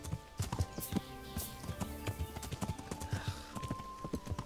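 Steady clip-clop of horse hooves at a brisk trot in the video game Kingdom Come: Deliverance, repeated rhythmic strikes over a light background of ambient tones.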